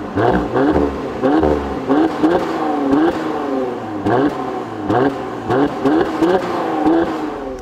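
A 2017 Mercedes-AMG C43 engine and exhaust pulls loud and close through repeated gears, each run rising in pitch and then dropping sharply at the upshift, with no voices.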